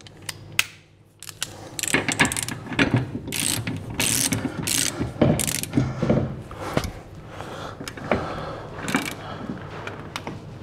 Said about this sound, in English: we need to torque the bolt back up. We recommend 50 newton meters on a torque wrench to do this